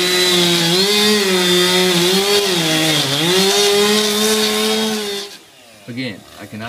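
A power saw, likely a chainsaw, cuts through a wooden floor to open a hole for a firefighter rescue from a basement, a loud continuous whine that rises and dips for about five seconds, then stops into quieter clatter.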